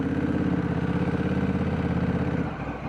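An automatic DCT motorcycle engine pulls under gentle throttle during a slow U-turn, a loud, close, steady pulsing drone that eases off near the end, with no talking.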